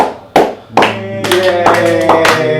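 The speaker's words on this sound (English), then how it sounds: "That's the extent of the clapping for the remainder of tonight." Sparse clapping from a comedy show audience, a few separate bursts of hands coming in one after another, close and fairly loud, with a sustained musical tone running underneath.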